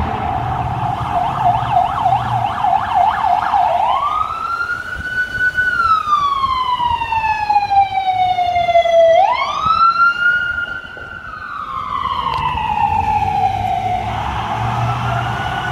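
A fire truck siren passes through Beverly Hills, loud and close, switching from a fast warble into long rising and falling wails that swell and then fade slightly.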